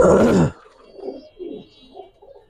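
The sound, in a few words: pigeons cooing at pigeon farm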